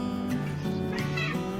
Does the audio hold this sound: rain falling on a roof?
no